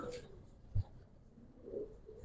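Soft, low coos come from an old-breed Giribaz pigeon, with a brief thump and faint murmuring in a quiet setting.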